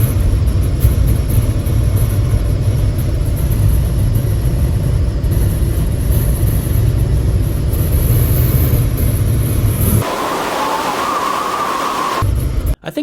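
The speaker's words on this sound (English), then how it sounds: "you really have to choose between one or the other because the wind noise is really something" Inside a 2023 Hyundai Santa Cruz at speed, fitted with a sunroof and roof crossbars, a loud, steady roar of wind and road rumble fills the cabin. It drops sharply near the end, leaving a quieter hiss.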